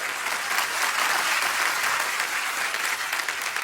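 On a television comedy talk show, a studio audience gives loud, sustained applause to welcome guests to the stage. The clapping is dense and steady throughout, with no speech over it.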